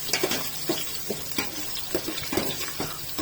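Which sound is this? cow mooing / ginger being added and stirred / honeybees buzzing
ginger being added and stirred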